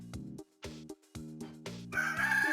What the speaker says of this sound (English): Rooster. Rooster, good job.